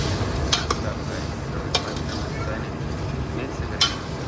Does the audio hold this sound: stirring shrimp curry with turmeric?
yes